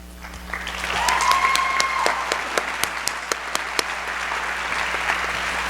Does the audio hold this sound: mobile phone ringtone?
no